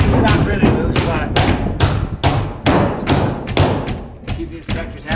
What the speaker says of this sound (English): he's got to go back and hand nail them and make sure it'll all pass code